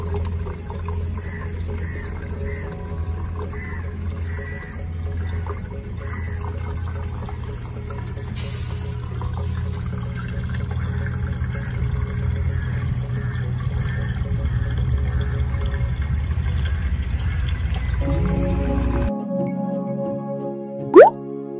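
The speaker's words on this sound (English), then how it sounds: "You hear it trickling away." Water trickles and circulates through a home hydroponics growing system as the pump fills it, a steady close wash of flowing liquid that stops abruptly near the end, followed by a single sharp plop.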